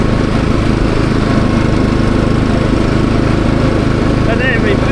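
Lawn mower engine running steadily and loudly close by through the whole stretch, a constant droning hum with no breaks.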